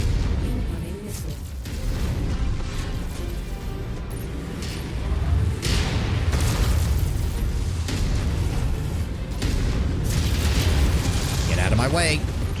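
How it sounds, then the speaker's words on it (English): Missile explosions and deep booms rumble through a mech combat game, with dense low-end blasts layered under a steady roar of battle noise and occasional mechanical clanks, building near and loud across the stretch. "Incoming missile."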